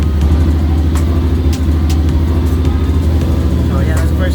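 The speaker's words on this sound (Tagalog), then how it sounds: "So, press start the engine." A Honda X-ADV scooter engine runs at a steady, loud, close idle with a continuous low rumble and no break, while someone talks over it.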